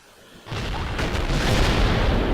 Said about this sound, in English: Quite a nice size explosion there, quite a nice crater caused.